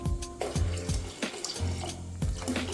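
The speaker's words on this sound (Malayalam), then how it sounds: "ഇനി ഇത് വേവാൻ ആവശ്യമുള്ള വെള്ളം ഒഴിച്ചു കൊടുക്കാം." Water poured from a tap onto lentils for a dal curry, a strong continuous gushing close by with shifting splashes as the pot fills, no talking.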